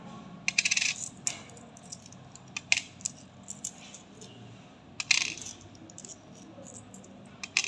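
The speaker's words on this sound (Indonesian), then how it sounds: "Kemudian ditambah koin Rp200." An Rp200 coin drops onto a weight sensor, with several sharp, clear metallic clinks and small rattles at irregular intervals against a quiet background.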